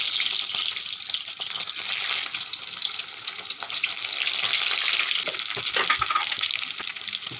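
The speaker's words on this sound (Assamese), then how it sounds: "ফ্ৰাই কৰিম মই এতিয়া।" Beaten eggs frying in hot oil for an egg curry, giving a steady, bright, crackling sizzle close by with occasional sharper pops, heard alone without talking.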